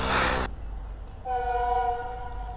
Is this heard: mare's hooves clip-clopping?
no